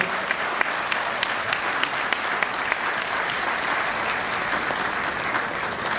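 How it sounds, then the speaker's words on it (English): An audience at a management talk on creating excellence at the workplace breaks into steady, dense applause after the discourse, a continuous wash of many hands clapping at even loudness for the full stretch. "give him a round of applause for this discourse"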